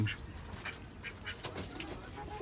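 Ducks quack faintly and repeatedly over a low outdoor background hum in the morning, with no clear voices.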